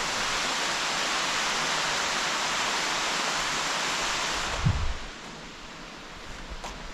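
Water rushes over a dam at Bowden Hill, Jamaica, a steady broadband roar that fills the scene. Near the end a brief low thump briefly rises above the flow.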